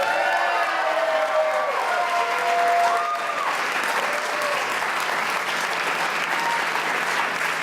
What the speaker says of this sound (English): a big round of applause for Pat Boera